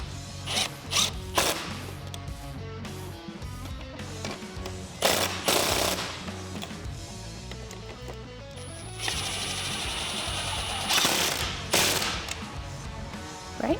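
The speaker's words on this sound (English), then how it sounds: "I'm just going to tighten those down with a 10mm socket." A 10mm socket wrench tightens bolts on a cold air intake fitted to a Jeep Wrangler JL, making a series of sharp, close ratcheting clicks and mechanical clatter in irregular bursts across the whole stretch.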